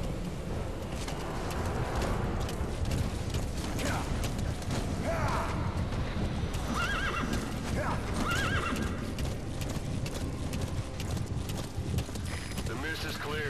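Horses neigh and whinny with clip-clopping hooves throughout a Metal Gear Solid V: The Phantom Pain game scene, set against constant loud game ambience and effects.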